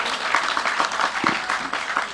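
Audience applause at an Islamic religious gathering, a Rutinan Teras Gubuk study session, as a steady wash of clapping that carries on for about two seconds at moderate level.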